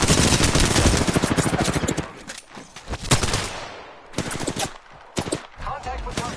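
Rapid automatic gunfire from a shooter video game, loud sustained bursts that break into shorter volleys with brief gaps, close and sharp, with some voice mixed in.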